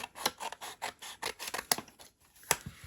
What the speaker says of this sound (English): I'm going to take my scissors, and I'm going to cut some of this off on this side